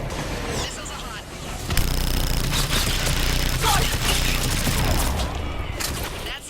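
Rapid missile launches and gunfire from the Mass Effect 3 game on Thessia, a dense barrage of repeated blasts and whooshes running throughout, loud and close, with in-game voices underneath.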